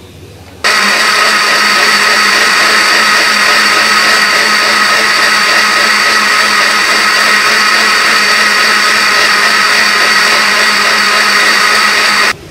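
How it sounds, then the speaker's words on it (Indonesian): An electric blender grinds soybeans with water for soy milk, starting abruptly and running as a loud, steady, high-pitched whir for about twelve seconds before cutting off. "Kita kasih air sekali lagi, dan kita blender lagi."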